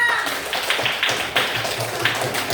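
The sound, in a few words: classroom clapping for a student group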